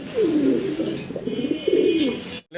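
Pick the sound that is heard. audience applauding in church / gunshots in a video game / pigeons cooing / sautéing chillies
pigeons cooing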